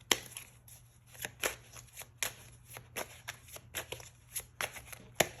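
Tarot cards being shuffled by hand, a steady run of crisp riffling clicks and slaps at close range over a faint low hum, with no talking.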